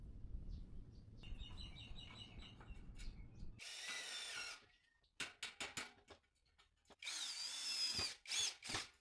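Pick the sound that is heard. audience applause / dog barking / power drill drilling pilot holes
power drill drilling pilot holes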